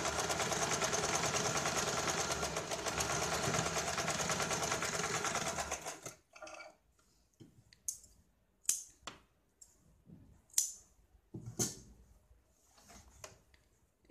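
A sewing machine runs in one fast, steady mechanical whir for about six seconds while it stitches along a blouse edge, then stops; scattered clicks and light handling noises follow at close range.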